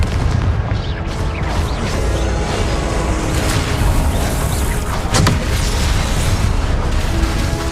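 Confringo blasting spell explosions in the Hogwarts Legacy video game, a loud, dense barrage of booming blasts and bursts rolling continuously with one sharper crack standing out.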